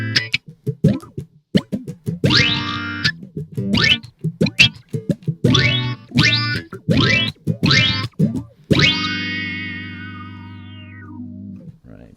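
An electric guitar through an envelope filter pedal set for a backwards wah effect plays short, funky plucked notes that swell with rubbery vowel-like sweeps, ending on one long sustained note that slowly fades, with no talking.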